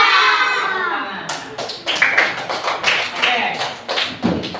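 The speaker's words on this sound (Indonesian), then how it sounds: "Tepuk tangan." Students in an Indonesian classroom clap their hands together in a burst of quick, uneven, overlapping claps that follow a brief stretch of chatter, rising and falling in loudness.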